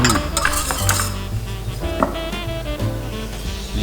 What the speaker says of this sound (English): after a couple of minutes of just stirring around nice and gently, our sauce will be so smooth